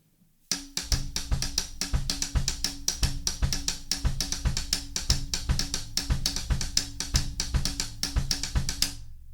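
A drum groove with the bass drum landing on beats 2 and 4, played as a two-bar phrase: crisp repeated hits and cymbal wash in a steady rhythm, close and clear, with no voices.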